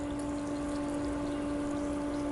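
Espresso pours steadily over ice cream for an affogato, a continuous close liquid trickle running unbroken throughout with a faint steady hum beneath.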